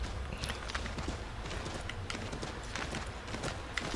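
A white horse walking in Assassin's Creed 3, rapid soft hoof clip-clops in a steady rhythm, fairly quiet and close.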